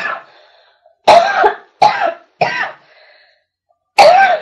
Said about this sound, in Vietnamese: nó ho hoài tới